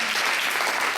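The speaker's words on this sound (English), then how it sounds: "Can we get a round of applause for our audio tech in the back?" Steady, dense clapping from a crowd at a school board candidate forum, filling the whole second evenly at close range with no gaps.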